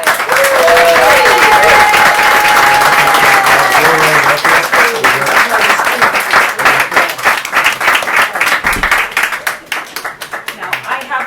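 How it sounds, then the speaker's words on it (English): A crowd at a poetry reading gives loud, dense applause for two guest readers. It starts at full strength and gradually thins into scattered claps, with some voices and a brief whistle-like tone near the beginning. "let's give another round of applause to Ben and Rafael."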